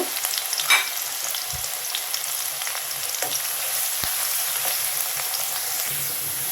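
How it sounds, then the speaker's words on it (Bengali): Chopped onion and garlic frying in a pan, giving a continuous even sizzle with occasional soft spatula scrapes and knocks, close and alone without talk. "এটাকে আমি একটু ভালো করে ভেজে নেব।"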